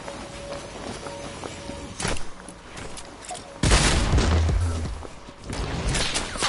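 Gunfire in a creative-mode 1v1 video game match: bursts of shots with a loud sustained flurry midway, mixed with footsteps and other game effects.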